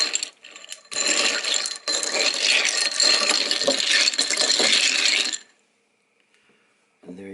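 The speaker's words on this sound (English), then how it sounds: "Give it a stir." A cocktail stirred with a spoon in a glass, a steady clinking, rattling swirl of ice for about five seconds, close and fairly loud, then silence before a brief faint noise.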